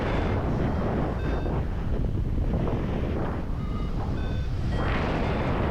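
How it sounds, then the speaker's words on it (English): Steady, loud wind roar buffeting the microphone throughout a paragliding flight on a valley crossing from St. Hilaire, with a few faint high beeps sounding intermittently over the rushing air. "So you can hear that the wind is a little bit louder now."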